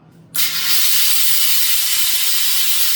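A Comel Pratika steam iron valve opens to full steam, releasing a sudden loud, steady hiss that starts after a brief quiet moment and holds strong and unbroken to the end.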